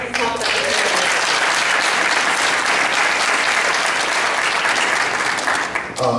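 Sustained, loud applause from the audience at a school board of education meeting, dense clapping that fills the room and fades briefly at the end.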